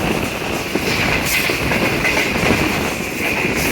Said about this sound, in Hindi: गाड़ी मुसलसल डाउन ग्रेडियंट जा रही है